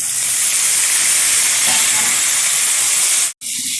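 Washed mutton dropped into hot oil with lightly fried potatoes, setting off a loud, continuous close-up sizzle and hiss that cuts out for an instant near the end before resuming.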